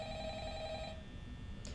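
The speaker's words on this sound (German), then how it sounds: "Telefon klingelt." An old-style telephone rings once in the Five Nights at Freddy's horror video game. The ring is a steady, bright electronic trill that cuts off after about a second, leaving faint background hum.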